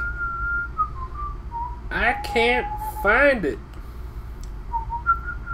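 A person whistles a short melodic tune, the intro theme from The Legend of Zelda: The Wind Waker, clear and close, between stretches of quiet speech.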